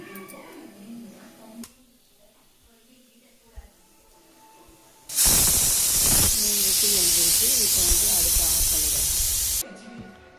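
Steam hisses loudly from a pressure cooker holding onion pickle, a harsh, steady rush lasting about four seconds before it cuts off abruptly. Quieter kitchen sounds and faint talk come before it.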